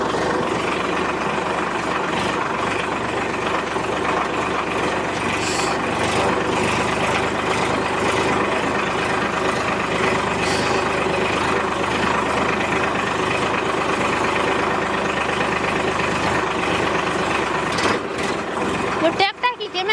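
Tractor engine running steadily nearby with a constant low rumbling drone throughout, while people talk over it.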